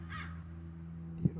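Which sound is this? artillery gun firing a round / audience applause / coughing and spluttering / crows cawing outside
crows cawing outside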